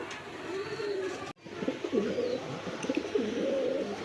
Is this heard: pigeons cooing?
yes